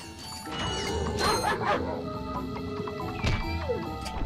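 Dogs in the Ratchet and Clank video game bark and yip several times amid game music and effects, with a player talking over the sound.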